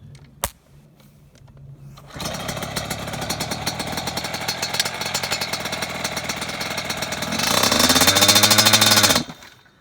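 A Yamaha YZ85 dirt bike two-stroke engine revs hard close by, a buzzing, rattly drone after a brief knock and quiet start, rising to a higher, louder rev near the end before cutting off abruptly.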